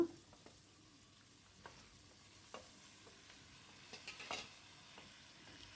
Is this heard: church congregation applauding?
no